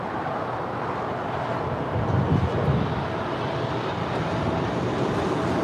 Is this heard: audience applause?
no